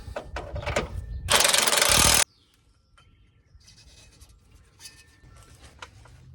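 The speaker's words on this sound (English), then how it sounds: "Tighten it back up with your 19mm on each side." A ratchet wrench with a 19mm socket tightens a nut on a subframe lift kit for a Nissan Armada. A rapid, loud burst of clicking is followed by quieter scattered metallic ticks and handling noises.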